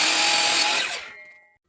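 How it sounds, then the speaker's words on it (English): Miter saw cutting through wood for a garden chair, a loud, dense whine of the blade biting the board that holds steady for most of a second, then winds down and fades out as the cut ends, with no talking. "I'm going to do this cut on the miter saw"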